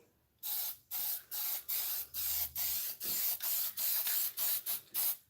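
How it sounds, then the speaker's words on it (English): A spray can hisses in a dozen short, even bursts, each about a third of a second, close and loud with brief gaps between. "if you're going to use a spray can, test the can somewhere else"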